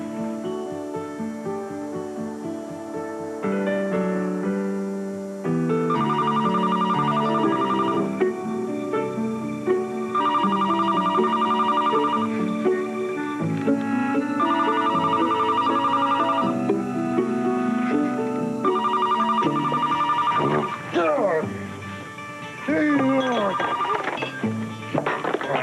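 A telephone rings with a repeating melodic ringtone in regular bursts. It plays loudly and steadily for over twenty seconds, mixed with other tonal sounds near the end.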